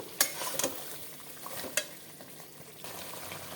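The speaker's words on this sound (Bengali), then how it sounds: "বেটে রাখা ধনে পাতা ভালো করে নেড়ে চেড়ে চিকেনটাকে সেদ্ধ হতে দেব" A spoon stirring chicken with ground coriander leaves in a pot, with a few sharp scraping knocks against the pot over a soft, steady simmering sizzle, close and without speech.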